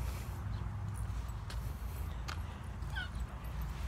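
A dog whimpers and yips faintly at a distance, soft cries rising above a quiet, steady background hiss.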